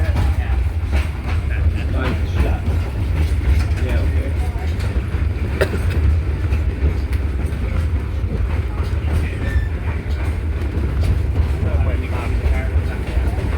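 The Mary Valley Rattler heritage train rolls along, its engine passing under a bridge, giving a loud, steady rumble and clatter that carries through the whole stretch.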